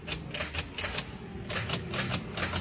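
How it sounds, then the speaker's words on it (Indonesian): A Honda CR-V starter motor that only clicks when the key is turned. The sharp clicks come in quick rhythmic bursts, with short pauses between groups, and sound fairly close but quiet. "cuma bunyi cetak-cetek"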